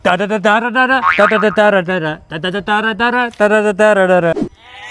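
Loud, close bleating in quick, wavering bursts, one call after another with brief gaps between them.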